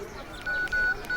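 A telephone being dialed in a Tamil film scene: a few steady tones sound in short bursts, fairly close, over a low background murmur.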